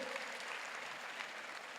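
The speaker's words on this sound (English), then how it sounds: "Give yourself a clap." Applause from a mostly female audience in a lecture hall, a soft, continuous patter of many hands heard from a distance at low level and fairly even throughout.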